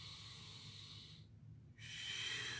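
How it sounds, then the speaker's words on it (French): Slow, deep breaths during a pilates plank: a long airy inhale, a brief pause, then another hissing breath, close and soft with no talking. "5 vraiment bonnes respirations"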